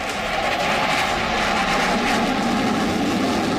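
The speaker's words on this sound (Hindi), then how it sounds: "जब ये लड़ाकू विमान आसमान में हिचकोले खाते हैं" Fighter jets roaring across the sky, a steady, loud broadband engine rush that holds constant throughout without any speech.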